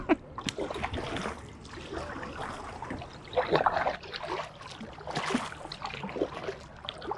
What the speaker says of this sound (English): we're kayaking